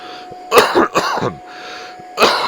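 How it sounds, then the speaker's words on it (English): Several harsh, throaty coughs in quick succession, then a pause and one more cough, close and loud. "besides all the coughing"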